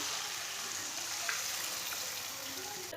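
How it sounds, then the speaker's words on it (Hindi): Vermicelli being browned in a pan and stirred with a spoon, a soft steady sizzle with faint scraping, low in level and continuous. "सेवियों को ऐसे ही चम्मच चलाते हुए ब्राउन करना हल्का सा।"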